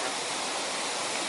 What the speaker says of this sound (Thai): นี่ก็จะเป็นน้ำตกนะครับที่ดอยคำฟ้าเนี่ย